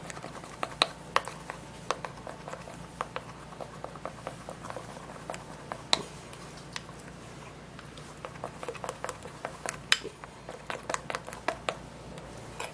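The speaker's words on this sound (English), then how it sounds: "So now we're going to stir and mix and mix and mix together." Skin-treatment ingredients for an anti-aging, skin-tightening mixture are stirred and mixed together, giving a steady run of faint, irregular small taps and clicks close by, with no talking.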